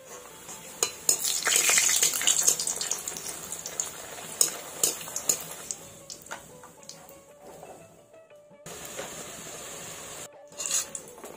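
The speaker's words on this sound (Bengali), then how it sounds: "তেল গরম হয়ে গেছে, এবার লুচিগুলো দিয়ে দিচ্ছি।" Luchi puff and fry in hot white oil in a kadai with a loud, bubbling sizzle, clattered by a ladle at first. The frying then settles to a quieter steady hiss with a few brief pauses.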